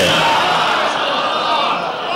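A large crowd at a religious gathering marking 15 Rajab cheers and chants loudly in a sustained, dense roar of many voices that holds steady throughout.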